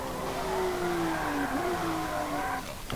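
A race car in Forza Motorsport drones through a corner, its engine note holding steady then dipping and rising again with a brief tire scrub near the end, loud and continuous with no voices.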